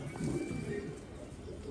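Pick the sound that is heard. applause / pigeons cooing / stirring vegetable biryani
pigeons cooing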